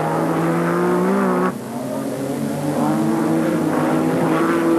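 Rallycross cars, a Porsche 911 and Ford Escorts, race on a dusty track at Mondello Park in 1986, with engine notes rising and falling, one dipping away before others surge back in.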